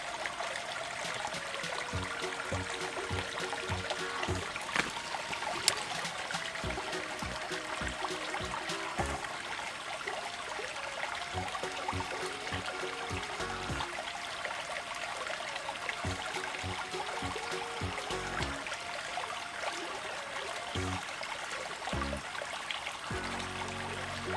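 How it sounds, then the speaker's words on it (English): A babbling brook trickles and gurgles steadily, soft and continuous, with water splashing over stones nearby, in Boyne Valley Provincial Park, Ontario. "I just pulled the camera here so you can hear the babbling of the brook."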